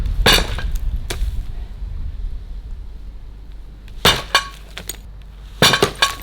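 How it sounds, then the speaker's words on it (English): Sledgehammer blows smashing out a brick-in letterbox: one sharp crack near the start, another about a second later, then after a pause a quick pair of loud impacts with glassy clinks and debris, then a final heavy strike. "The good thing about one of these sledgehammers is that it does give you a bit of social distancing from the actual device."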